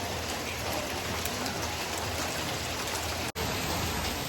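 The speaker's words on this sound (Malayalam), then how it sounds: "ഇവിടെയൊക്കെ മഴയാണ് വലിയ മഴയില്ല എന്നാലും മഴയുണ്ട്" Steady rain pours down, a dense even hiss of drops hitting surfaces, continuous and fairly close, with no voices.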